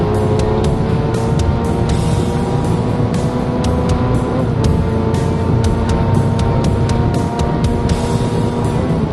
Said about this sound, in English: And then you hear people start downshifting.